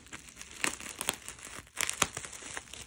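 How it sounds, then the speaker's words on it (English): Bubble wrap crinkles and crackles in close, quiet bursts while a package is unwrapped, with a few sharper rustles near the middle and no talking. "I don't want to tear the bubble wrap because I just don't like wasting bubble wrap."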